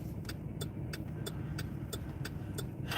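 Cars roll past steadily on a road where traffic has slowed around a stopped vehicle, a continuous engine and tire rumble with faint repeated ticking over it.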